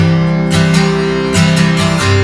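A heavily distorted electric guitar plays the verse riff of a song, a loud sustained tone with a few quick picked note changes, close and with no talking.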